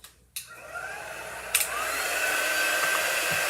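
A handheld hair dryer blowing on a resin craft piece, clicking on and ramping into a steady, loud whirring roar that holds constant, with a small knock midway and no talking.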